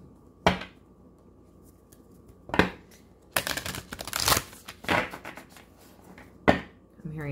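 Tarot cards being shuffled by hand: several sharp riffling bursts spaced a second or two apart, with a longer cluster of rapid flutters in the middle, close and crisp.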